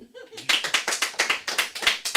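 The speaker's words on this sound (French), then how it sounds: "Applaudissez." A small audience claps after a short voiced sound at the start, a handful of hands applauding close and fairly loud in a quick, uneven rhythm.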